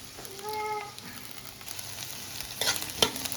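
Brinjal pieces stir-fried in a pan at home, a faint soft sizzle with a brief tonal clink early and a few scraping stir strokes near the end, no talk.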